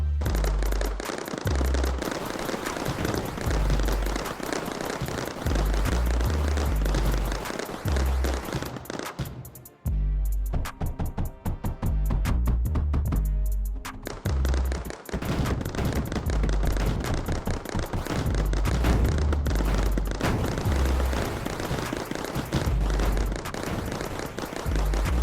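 Defense turrets in the Mindustry video game fire continuously in rapid, dense volleys, loud and unbroken apart from a brief lull, like sustained machine-gun bursts with no voices.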